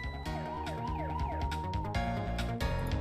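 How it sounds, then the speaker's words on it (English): A police siren sounds in the Ghost Trick: Phantom Detective video game, a rising and falling electronic wail that repeats over busy game music and continues loud throughout. "Police siren!"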